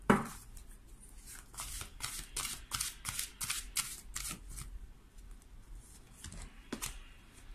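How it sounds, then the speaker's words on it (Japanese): Tarot cards are handled and laid out, with a rapid series of crisp flicks and slaps, close and fairly quiet, thinning out toward the end with a few isolated snaps. "じゃあちょっとあと3枚のカードを出していきましょう。"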